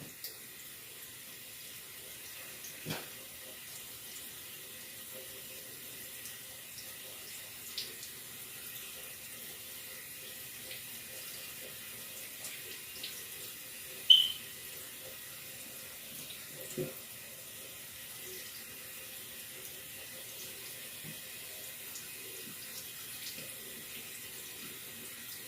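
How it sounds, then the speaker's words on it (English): A tap runs steadily into a sink while hands are rinsed during handwashing, a soft continuous water hiss with a few faint knocks and splashes, no speech. "let's rinse our hands"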